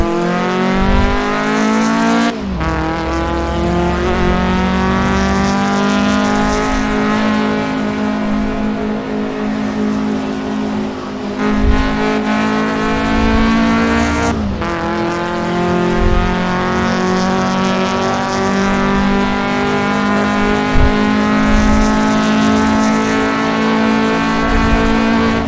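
A Toyota AE86 engine in the racing sim Assetto Corsa, held at high revs through long sustained drones with two sharp gear shifts, driven on a Japanese highway with handbrake drifting, loud and steady throughout.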